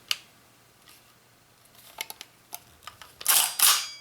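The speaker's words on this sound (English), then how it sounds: "Bolt locks open when you pull it" Bolt of a DYTAC SLR Airsoft Works B15 Helix Ultralight Carbine AEG being handled, a series of small dry clicks building to two loud close metallic clacks as it is pulled back and locks open.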